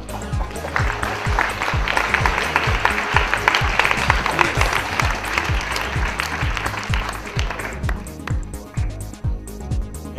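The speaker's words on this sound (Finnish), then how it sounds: "Ja se on aplodien paikka miesten puolematkan kolme parasta" Steady crowd applause at an outdoor ski race award ceremony for the men's half-distance top three, dense clapping that rises, holds, then thins out toward the end, with a rhythmic thumping underneath.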